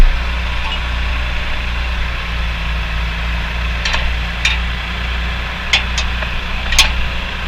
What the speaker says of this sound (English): Got a bigger tractor involved.